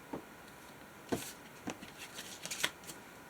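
Scissors cutting paper pieces apart for a junk journal, a few soft, brief snips and rustles spaced irregularly, faint and close with no talk.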